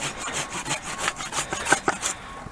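A Felco 630 pruning saw cutting through a plum tree branch, with rapid back-and-forth rasping strokes in a steady rhythm, close up and clear with no talking.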